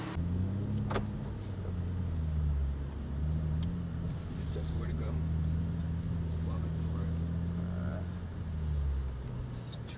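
A BMW M3 Competition engine runs at a steady, deep idle with a slight swell in the middle, close and continuous, with no sharp revs.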